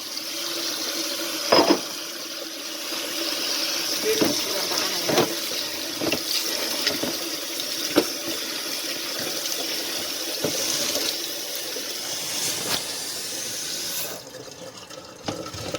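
Tap water runs steadily over spinach being washed, a continuous close splashing stream broken by sharp clunks and handling knocks before the flow stops near the end.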